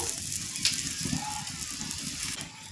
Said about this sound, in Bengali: চারপাশ দিয়ে একটু তেল দিয়ে দেব আমি অল্প করে তেল দিয়ে দিচ্ছি